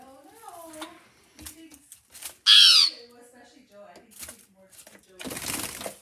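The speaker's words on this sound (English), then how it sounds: "It's a beautiful little bird. Come on. I think they're called tui birds." A wild tui that has flown indoors into a home kitchen gives one loud, harsh squawk partway through, while a person talks softly before and after it and rustling noise rises near the end.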